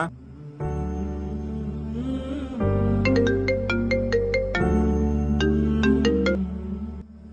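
A mobile phone ringtone plays loud and close, a musical melody with layered tones and a run of bright repeating notes in the middle, and no voices.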